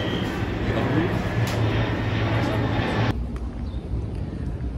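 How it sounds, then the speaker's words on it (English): A loud, steady rumble of an underground subway train fills the first three seconds, then cuts off abruptly, leaving quieter ambient noise. "I'm waiting for the normal underground subway train"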